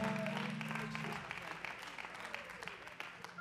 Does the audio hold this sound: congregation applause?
yes